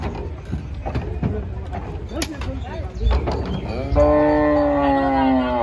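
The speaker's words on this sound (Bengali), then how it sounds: "কিভাবে গরুগুলো বোঝাই করা হচ্ছে দেখতে পাচ্ছেন।" At a cattle market, cows being loaded onto a trawler are heard amid clattering knocks and background voices, followed by one long, loud, drawn-out moo near the end.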